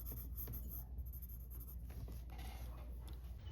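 A pencil sketches lines on paper while drawing a sugar skull, giving a steady, close, soft scratching rasp with brief strokes throughout.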